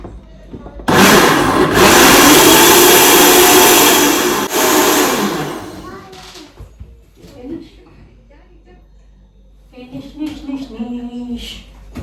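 A kitchen blender roars on loudly, a steady, dense whirring that holds for several seconds and then winds down and cuts off, leaving quiet room sound and then people talking nearby.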